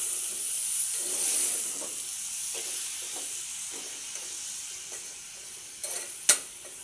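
Ginger, garlic and chopped tomatoes frying in oil for a flat bean curry, a continuous soft sizzle and hiss with a few sharp clicks of a utensil near the end.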